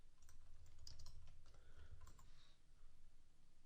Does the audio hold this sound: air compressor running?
no